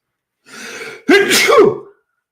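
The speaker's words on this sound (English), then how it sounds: "Oh no, you sneezed." A single loud, close sneeze with a sharp intake of breath before it, alone with no talking.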